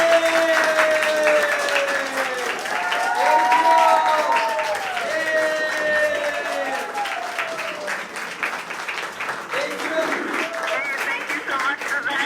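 A school crowd cheers and applauds after a ham radio contact, sustained clapping spread over several seconds with a voice speaking over it.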